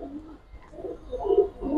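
Pigeons at a Bengali loft give soft, low coos, close by and repeating in a few rolling phrases, with no talking.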